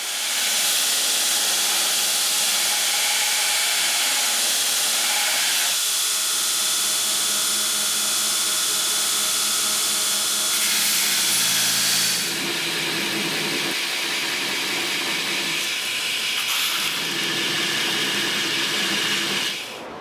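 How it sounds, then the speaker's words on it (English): A grinder shapes the profile of a hand-forged fantasy blade, giving a loud, steady, hissing rasp that runs the whole time and shifts in pitch and intensity as the steel is pressed against it. "Next thing to do is go ahead and get the profile ground in. So I've just kind of marked out some tentative lines and we're going to hit the grinder."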